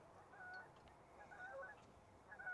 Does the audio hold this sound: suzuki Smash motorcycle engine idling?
no